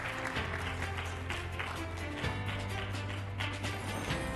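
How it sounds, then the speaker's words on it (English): Applause from a graduation ceremony audience, a steady wash of clapping that carries on for several seconds at moderate level, with a low hum running beneath it. "Round of applause once again for our top students."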